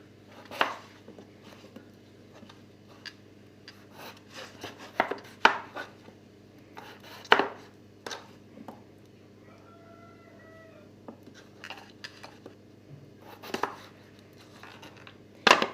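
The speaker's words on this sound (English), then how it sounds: "you can actually cut them in half and then dice them" A knife dices potatoes on a cutting board, irregular sharp thuds in short bursts with brief pauses, close and clear with no talking.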